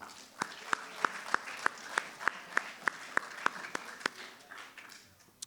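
A small audience at a spring sports varsity awards ceremony claps, with sharp, evenly spaced claps standing out over a soft, sparse patter that fades toward the end.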